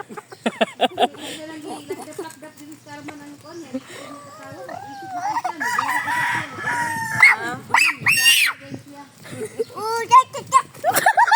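A rooster crows several times, mixed with people talking nearby and some clucking fowl in the background.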